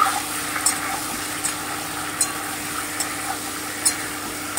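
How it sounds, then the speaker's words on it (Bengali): Plain chicken pieces fry in hot oil in a pan, a steady close sizzle with a few faint crackles and pops, no talking. "চিকেনগুলোকে দিয়ে দিচ্ছি। দিয়ে আমি একটু ভালো করে ভেজে নেব"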